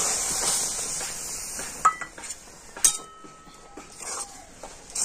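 Flour is stirred into boiling water to form dough for Bengali apple pitha, giving soft scraping strokes, a few sharp clinks of a utensil against the pot, and a faint background hiss.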